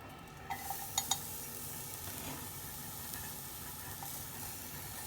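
Chilli and garlic sizzling in a warm pan for Korean-style beef and rice, a soft continuous fry with a few light clinks of a utensil early on.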